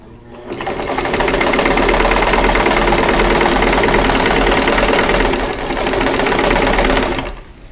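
A sewing machine runs steadily for several seconds, piecing sampler quilt blocks. The stitching is close, loud and even, with a brief dip partway through before it resumes and then stops near the end.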